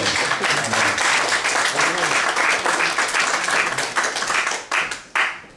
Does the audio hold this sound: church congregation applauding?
yes